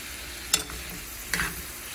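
Brussels sprouts frying in a pan over low-medium heat, a steady soft sizzle broken by two brief clattering stirs, close up with no talk.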